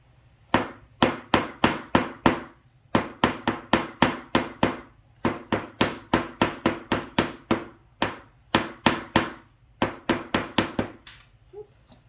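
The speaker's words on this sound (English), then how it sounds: "So we're going to flatten it back out so that it sits nice and flat. Using the rawhide mallet." Rapid bursts of rawhide mallet blows flattening copper sheet, sharp close taps in quick runs of five to eight, separated by short pauses, with no talking.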